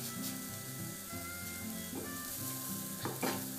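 Stir-fry vegetables fry in a pan, a soft, continuous sizzle with occasional stirring clatters and no talk.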